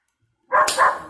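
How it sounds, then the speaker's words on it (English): A dog gives two quick sharp barks close up after a moment of silence. "Just ignore my dogs, even if I don't."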